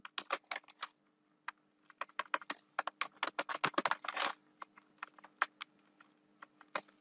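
Typing on a computer keyboard: quick, irregular clicks of keys pressed close up in uneven bursts with short pauses, clear and fairly quiet, with no talking.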